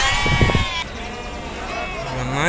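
Sheep bleating close by at a goat and sheep market, a drawn-out wavering bleat followed by another, with a brief burst of voices or movement at the start.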